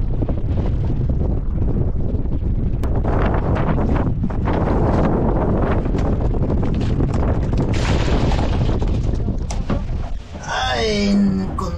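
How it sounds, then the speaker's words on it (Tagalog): Strong wind at sea roaring across the microphone on a fishing boat, a loud continuous buffeting rumble with gusts, before a voice speaks briefly near the end. "Lakas na naman ang hangin."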